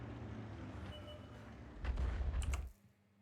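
An M44 self-propelled artillery piece fires in World of Tanks amid a dense battle din, a heavy booming burst near the end before the noise drops away.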